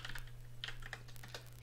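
Keys clack on a computer keyboard in a sparse, irregular burst of quick taps, fairly close and clear over a steady low hum, with no talking.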